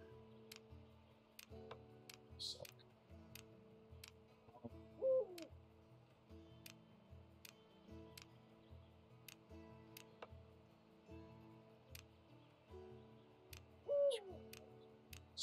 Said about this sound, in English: We have an owl above us